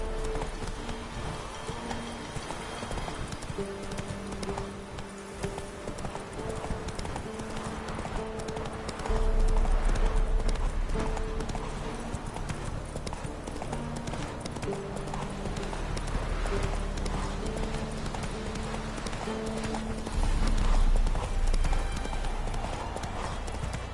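Galloping hoofbeats from a horse in The Witcher 3 keep a steady, rapid clip-clop the whole way, set against sustained music tones, with a louder surge of low rumble partway through.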